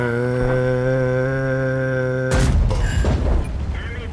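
The E75 tank gun firing in World of Tanks: after a sustained tonal engine drone, a single loud booming shot bursts in, followed by a short rumbling, crackling decay.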